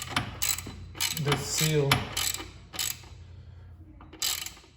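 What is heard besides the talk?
tightening valve cover bolts crossways on Acura TSX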